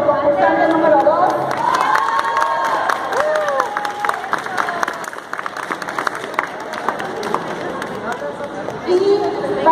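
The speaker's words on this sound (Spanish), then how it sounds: "aplausos para Mateo, que es nuestro concursante número 2." Crowd cheering and applauding at a children's cosplay contest, a loud, continuous roar of clapping and shouts with excited children's voices and chatter throughout.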